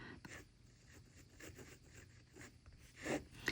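A Sailor fountain pen nib scratching across paper in short, faint strokes, close up, with a slightly louder scrape near the end and no talking.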